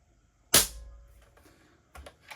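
A single sharp crack from an Airmaks Caiman X PCP air rifle, loud and close, followed by a short fading tail and a faint click of handling.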